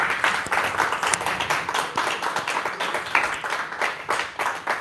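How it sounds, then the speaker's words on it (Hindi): Members of a church congregation clap loudly and rhythmically for God at a Hindi worship service, a sustained, even wave of many hands close by, with little talking over it. "जोर से ताली बजाएंगे परमेश्वर के लिए।"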